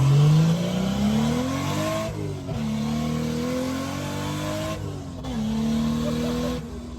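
Lexus IS300, not yet aligned, accelerates hard with engine revving up through gears, pitch climbing then dropping at each of two clear shifts, loud and close from inside the car.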